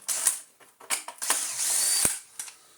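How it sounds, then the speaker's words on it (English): A long Torx bit unscrews a buried screw deep inside a Dyson DC14 vacuum during a suction motor replacement, giving close, loud bursts of ratcheting clicks and scraping metal in an irregular rhythm, with a sharper knock near the end and no talking. "to remove the buried screw"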